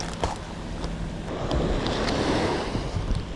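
Waves break on a beach on the Izu Peninsula, with a continuous surf roar that swells midway. Wind buffets the microphone and no one speaks.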